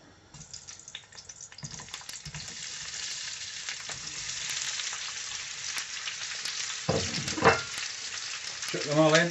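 Vegetables for a chicken jalfrezi hitting hot oil in a pan, a loud, steady sizzle that builds over several seconds, with sharper crackling bursts and spitting toward the end; no talking.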